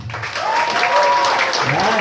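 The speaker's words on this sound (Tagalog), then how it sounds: "Malakas na palakpak nga!" Audience applause at a product knowledge seminar, a full burst of clapping from a crowd with cheering voices and a speaker's voice rising over it, fairly loud and sustained.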